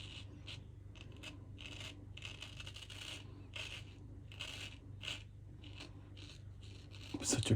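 Razor scraping across stubble during a wet shave with a slick shaving soap, rapid repeated crackling rasps in short strokes close to the ear, with no talk.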